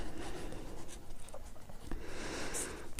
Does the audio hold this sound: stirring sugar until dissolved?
no